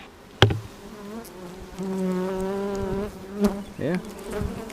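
Honeybees drone in a steady, close buzz inside an opened hive, with a couple of brief knocks or thumps near the start and end.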